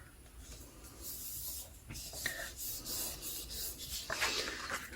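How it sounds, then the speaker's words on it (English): Intermittent rubbing strokes as glued paper is burnished down onto a journal page, soft scratchy swipes in short irregular bursts, fairly quiet and close. "Let's just burnish that down."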